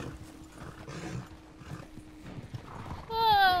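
Horse hooves clip-clopping in Red Dead Redemption 2, a steady trotting rhythm under a player's voice, ending with a sudden bright tonal game sound.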